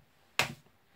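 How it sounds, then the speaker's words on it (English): A single sharp hand clap, close and fairly loud, with a short decay into near silence. "That was a shit clap."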